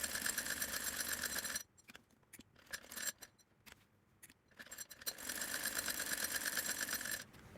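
Sewing machine stitching the white part of a child's fotua with white thread, running in two steady mechanical bursts at the start and end with a quiet gap of small clicks and handling between them.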